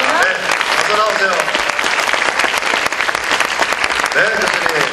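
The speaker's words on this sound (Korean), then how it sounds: "여러분 큰 박수로 환영하겠습니다" A studio audience claps loudly and steadily to welcome a criminal profiler guest onto a Korean talk show stage, the dense applause running throughout with a few brief voices audible over it.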